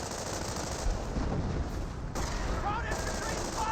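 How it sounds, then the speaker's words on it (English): Battlefield gunfire from the WWII strategy game Company of Heroes 1, US versus Wehrmacht forces, with steady dense rattles and bursts of distant small-arms fire running throughout amid a continuous combat din. "Volks Grenadiers does get a good shot."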